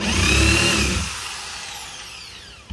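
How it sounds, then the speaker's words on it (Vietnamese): A 220V electric drill for wood runs loud and close for about a second, then its motor whines down as it spins to a stop, leaving a quiet tail before a brief bump. "Khoan gỗ đây"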